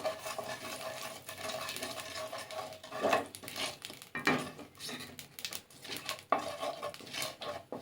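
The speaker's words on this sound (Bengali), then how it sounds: "আমি কালো জিরাটাকে জাস্ট একবার নাড়িয়ে নেব।" Nigella seeds fry in oil in a pan while a utensil stirs them, making intermittent clinks and scrapes against the metal over a faint sizzle, up close and without talk.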